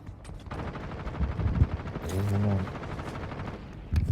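Gunfire in the Warzone Mobile shooter game, with bursts of shots and a low rumbling hum, heard close and fairly loud over ongoing game noise.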